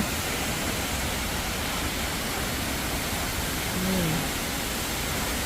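Water flows strongly near a waterfall in a steady, loud, broadband roar throughout, with a faint voice briefly audible under the rush.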